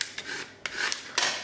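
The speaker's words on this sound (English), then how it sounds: "just take your squeegee and work really well to get all the pieces together" Squeegee rubbed firmly over a vinyl decal on a Dollar Tree bathroom container, giving three or four quick rasping strokes, close and fairly faint, with no talking.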